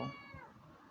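A house cat gives a single close, drawn-out meow that slides downward in pitch and fades within a second. The sound is faint overall, with no talk over it.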